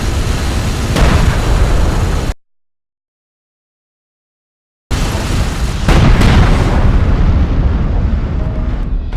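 Strike craft exploding in the video game Homeworld: Deserts of Kharak, heard as loud, dense booming blasts and rumble that cut out abruptly to silence, then return as a heavy roaring burst with crackling debris.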